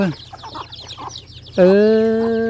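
Chickens cluck in a quick, busy series on a farm, then one hen lets out a loud, drawn-out squawk close to the microphone that holds steady to the end.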